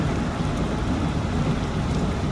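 Steady heavy rain in the Indian Train Simulator game, a dense, constant hiss of falling water on a passenger train run from Rajpura Junction toward Ludhiana, continuous and fairly loud with no talk.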